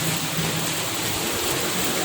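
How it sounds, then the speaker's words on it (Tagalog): Steady rain on a road trip between Manila and Cavite, a dense, even hiss of falling water that holds constant throughout without pause. "Inabot na kami ng ulan."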